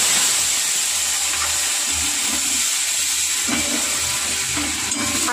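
Chopped tomato frying in oil in a pan for pabda fish curry, a steady loud sizzle and hiss throughout with faint stirring and low background rumble, no talk.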